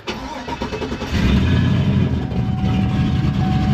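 A 6.0-litre Chevrolet Silverado engine cranks briefly and catches, rising into a loud, steady, slightly uneven idle that carries on alone to the end, with no voices.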